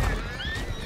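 A donkey in a video game gives a short, pained, whinnying bray, close and fairly loud, lasting under a second.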